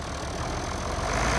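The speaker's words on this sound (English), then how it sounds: "now he's trying the tractor again" A heavy engine idles with a steady, rough rumble, close by and unbroken, with no voices.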